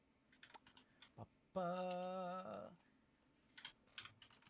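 Faint, scattered clicks of someone typing on a computer keyboard, briefly interrupted by a sustained tonal beep in the middle.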